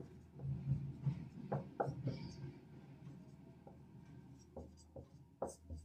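Writing out polynomial division by hand, with close, faint scratching strokes in quick irregular bursts and a low murmur underneath.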